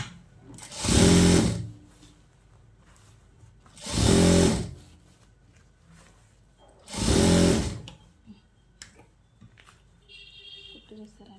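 Three evenly spaced bursts of a sewing machine stitching a silk blouse, each loud and close, with quiet pauses between them.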